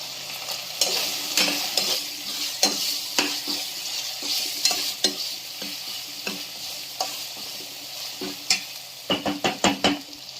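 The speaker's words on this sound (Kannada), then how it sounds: "ಕರ್ಬೇವಿನ ಸೊಪ್ಪು, ಹಾಕ್ಕೊಂಡು ನೀಟಾಗಿ ಫ್ರೈ ಮಾಡ್ಕೋಬೇಕು" Curry leaves frying in hot oil in a pan, a steady crackling sizzle punctuated by sharp pops and spatters, with a quick burst of crackles near the end, close and loud with no voices.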